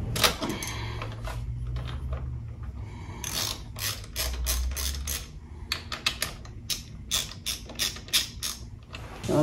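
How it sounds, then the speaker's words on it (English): Socket wrench ratcheting as caliper bolts are loosened on the fork of a BMW R1200RS motorcycle; close, repeated clicking bursts with metallic creaks and pauses between strokes, no talk. "So first loosen the bolts for the calipers on both sides."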